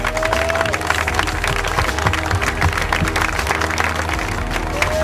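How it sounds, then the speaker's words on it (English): A crowd claps steadily in a sustained round of applause at a skate plaza groundbreaking ceremony, dense and continuous, with some music and a few faint voices mixed in. "So please give Rob a round of applause."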